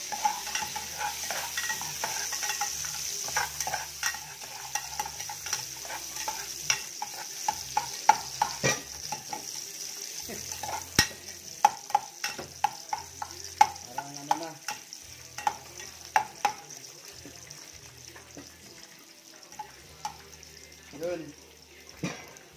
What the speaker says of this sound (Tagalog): pumuputok na guys yung niloto natin